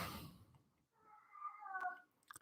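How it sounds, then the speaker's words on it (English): A single drawn-out cat meow, rising and wavering, follows a brief burst of noise. A few faint clicks come at the end. "There's my cat again. This cat's in heat all the time."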